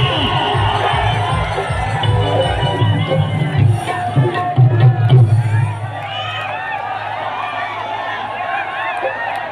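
A crowd at a Bhojpuri stage show in Malad, Mumbai, for Khesari Lal Yadav, claps and cheers in a dense, continuous roar that eases after a few seconds into a lower murmur.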